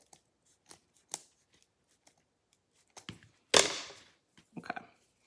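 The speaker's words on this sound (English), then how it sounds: "I'm going to cut it at the angle." Scissors snipping through a foam flip-flop craft piece at an angle, a few scattered quiet clicks building to one loud crunching cut and then several shorter snips, close and alone without talk.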